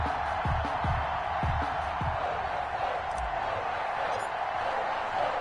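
Stadium crowd at an NFL video game matchup between the Kansas City Chiefs and the New England Patriots, a steady broad roar of cheering spectators filling the whole stretch, with low thumping hits early on.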